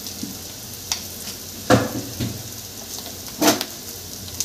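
Masala with turmeric, red chilli powder and coriander powder frying in oil over a low gas flame, a soft steady sizzle with a few stirring scrapes and taps of a spoon against the pan.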